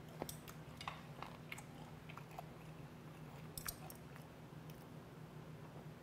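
Someone chews steamed fermented skate (hongeo jjim) at a restaurant in Busan. The soft, close, wet chewing and biting is quiet, with a faint room murmur behind it.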